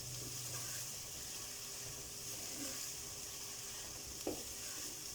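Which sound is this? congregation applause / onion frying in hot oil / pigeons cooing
onion frying in hot oil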